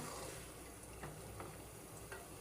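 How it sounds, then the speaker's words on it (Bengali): Pilau rice stirred in a pot gives a soft, continuous sizzle with a few faint scraping strokes, quiet and close. "ফিরে আসলাম পোলাও নাড়া দেওয়ার জন্য"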